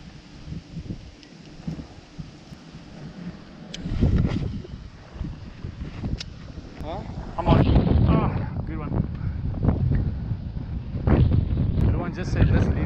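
Wind gusts buffet the microphone on a fishing boat on a lake, a rough, uneven rumbling with louder bursts, while people talk over it.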